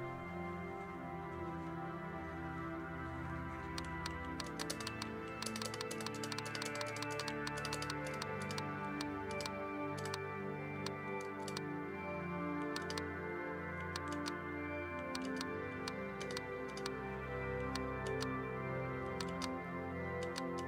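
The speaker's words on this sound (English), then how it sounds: "Guess I'm gonna have to use the keyboard here." Rapid keyboard typing in the video game Tardy, a dense stream of clicky keystrokes coming in bursts over a steady background music bed, with no talk.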